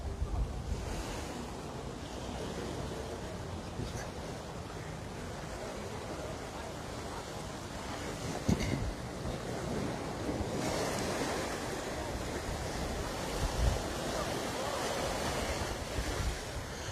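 Waves washing onto a small beach in Hawaii on a fine day, with a steady surf roar mixed with gusting wind across the microphone, moderately distant and continuous, with no talking.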